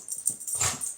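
Dogs bark close by indoors, a quick rough yap or two packed into a moment.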